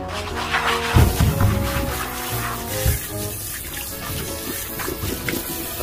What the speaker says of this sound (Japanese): この洗剤でよく洗います。